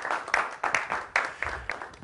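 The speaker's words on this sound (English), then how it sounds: "a round of applause for Dejan Djordjevic" A small class audience claps for Dejan Djordjevic in a few uneven bursts, moderately close, with no one speaking.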